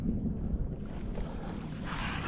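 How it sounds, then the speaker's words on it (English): Strong, unexpected wind buffets a kayak out at sea off Umdloti while fishing, a steady loud roar with rumbling microphone gusts and a faint wash of water, no voices. "So crazy, totally unpredicted wind that's come up."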